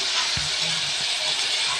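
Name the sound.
onions frying in a pan with turmeric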